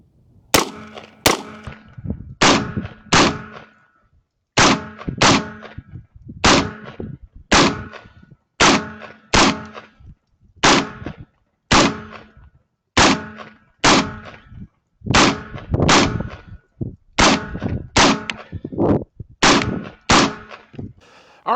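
Rifle fitted with a DNT NVMD-C200 night vision scope firing about eighteen sharp, evenly spaced shots outdoors, each crack loud and close with a short trailing echo.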